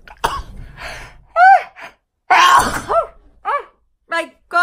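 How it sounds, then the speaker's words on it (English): A loud sneeze bursts out amid short breathy, voiced gasps and groans nearby. "I'm going to sneeze."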